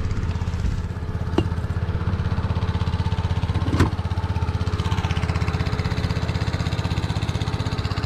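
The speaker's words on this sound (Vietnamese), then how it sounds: "Anh em nổ máy, bây giờ bắt đầu nổ máy nha." A small engine starting and then chugging at a steady, rapid idle close by on a desert island, one sharp clatter partway through, with no talk over it.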